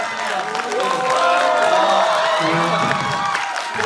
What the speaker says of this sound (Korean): 네 박수 한번. 큰 박수.